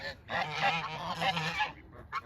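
A single goose, a cross between a Sebastopol and a Chinese goose, lets out one drawn-out nasal honk lasting over a second, close and fairly quiet, followed by a brief shorter call.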